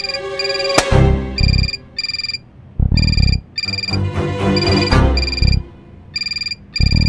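A telephone rings loudly at a women's police station in repeated short bursts of electronic tones separated by brief gaps.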